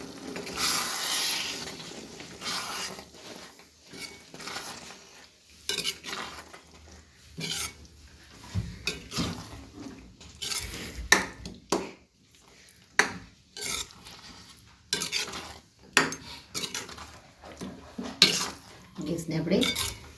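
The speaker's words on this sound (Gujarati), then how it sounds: "હવે આને આપણે એકવાર ચલાવી દઈશું" A spoon stirs green pav bhaji seasoned with Kitchen King masala in a metal pan, giving repeated scraping clatters and knocks in an uneven rhythm, fairly close, with no talk.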